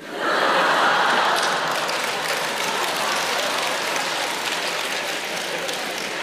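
A theatre audience at a crosstalk comedy show claps at length. The applause swells quickly and then holds as a dense, even roar of many hands. No one speaks over it.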